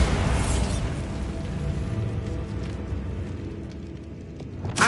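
Bombarda exploding spell in Hogwarts Legacy, a burst followed by a long rumbling decay, with a fresh sharp blast at the very end.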